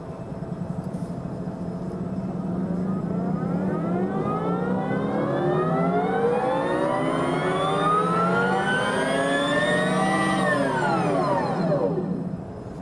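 Electric Harley-Davidson motorcycle coasting down from about 60 km/h after the throttle is released, a steady rising electric-motor whine that sweeps down near the end, close and loud.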